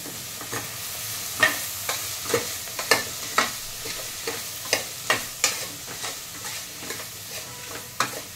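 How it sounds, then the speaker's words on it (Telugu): Ridge gourd pieces frying in a pan, a soft sizzle under regular scraping strokes of a spoon roughly every half second, close and moderately loud, no speech. "ఇప్పుడు మనం ఇందులోనే బీరకాయ ముక్కలు కూడా వేసుకుందాం."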